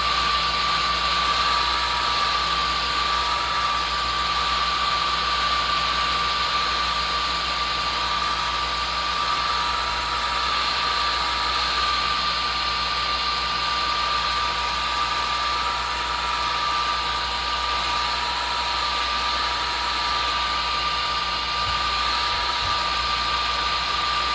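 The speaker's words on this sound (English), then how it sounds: "we'll hit it with a hair dryer" A hair dryer blows steadily on weathering paint on a model railroad tank car, a constant close whooshing hum that runs unbroken and alone from start to finish.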